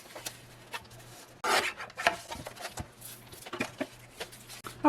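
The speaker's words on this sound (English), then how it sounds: "I thought I would trim that off with my little trimmer" A small paper trimmer slices the glued edge off a journal page, giving one scraping cut followed by light rubbing and paper handling noises, close and fairly quiet, with no voices.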